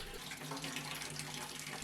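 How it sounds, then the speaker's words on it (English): Water drains from household plumbing pipes into a bucket during a water softener installation, a constant gushing, splashing flow that runs without pause. "I used a bucket to drain the rest of the water from the pipes."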